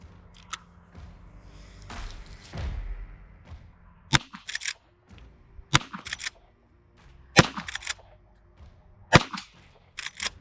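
Gunshots from .38 Special lead round nose ammunition, a series of sharp, separate cracks spaced a second or two apart, with quieter clatter and handling noise between them.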